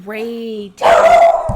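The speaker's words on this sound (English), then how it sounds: "Pardon the dog." A dog gives one loud, close, drawn-out bark-howl that fades out, then a person starts talking.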